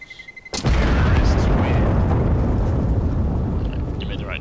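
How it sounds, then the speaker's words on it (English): A loud explosion bursts in a competitive tactical shooter round, a sharp blast followed by a long rumbling roar that holds steady and slowly fades, with faint game sounds before the hit. "It is going to explode."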